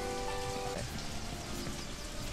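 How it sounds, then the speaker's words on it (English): Steady rain falls in the Only Up video game, a dense, even hiss of drops over a soft background tone, continuous and without talk. "Was it raining here before?"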